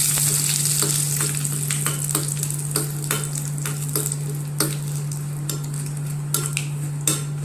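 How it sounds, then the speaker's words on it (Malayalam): Curd chilies and curry leaves sizzle and crackle in a pan with mustard seeds, while a spoon scrapes and stirs in steady, repeated strokes close by; no one speaks. "തൈര് മുളക് ചേർത്ത് കൊടുക്കാം. കറിവേപ്പില ചേർത്ത് കൊടുക്കാം. പിന്നെ ഇളക്കി കൊടുക്കുക."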